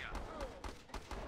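Distant machine gun fire from the real-time strategy game Battle Islands: Commanders: several short, faint bursts rattle at irregular intervals, mixed with soft background game sounds.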